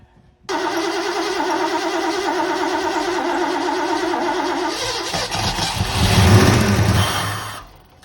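A Ford Mustang Foxbody engine that has sat unused for five years cranks with a steady, pulsing starter whir for several seconds. It briefly catches into a rougher, louder rumble before fading, close and loud.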